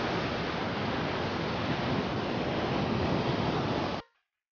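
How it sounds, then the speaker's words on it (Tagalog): Strong waves at Tondaligan Beach, a steady loud roar of surf with wind, unbroken for about four seconds before cutting off. "Ayan oh, sobrang lakas ng alon."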